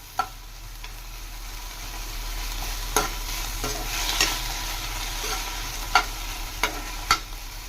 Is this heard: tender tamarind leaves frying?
yes